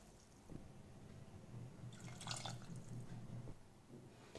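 About one and a half cups of water are poured into arhar dal for cooking, a brief splashing pour in the middle with faint drips around it.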